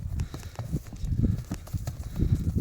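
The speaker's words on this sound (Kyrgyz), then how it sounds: "Мына ушул ат экен." A horse walks close by, its hooves clip-clopping in a steady, uneven rhythm of hollow knocks, with faint background noise and no clear speech.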